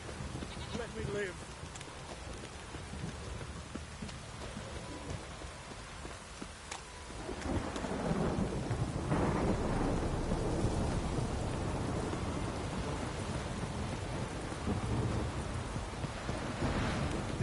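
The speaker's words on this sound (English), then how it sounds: "This downpour's a bastard" Heavy rain and rolling thunder from the video game The Witcher 3 form a steady, loud wash that swells around the midpoint and keeps going, with a voice talking over it.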